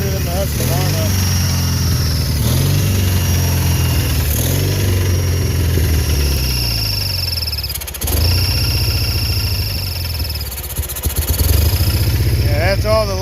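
Lawn tractor engine idling at its lowest speed, a steady close low rumble with a faint whine, while a person talks over it.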